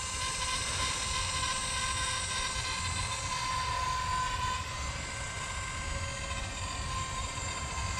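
A Blade 230s V2 RC helicopter hovers low in a backyard, its rotor and motor giving a steady, continuous whine and whir at close range with a high-pitched tonal hum throughout.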